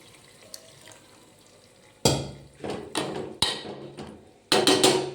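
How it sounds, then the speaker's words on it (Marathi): Quiet at first, then a sudden loud splash and sizzle as water hits a hot pot, followed by several bursts of hissing and bubbling. "बघा पाणी सोडलं आहे."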